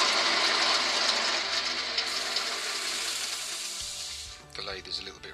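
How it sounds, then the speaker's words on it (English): A slightly rattly wood lathe spins a beech burr bowl, giving a continuous mechanical whir with a rattling edge that winds down and stops near the end, followed by a few brief clunks. "The lathe is a little bit rattly."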